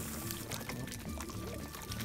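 Water poured over racing pigeons as a shower, a short continuous gush of pouring and splashing heard close up.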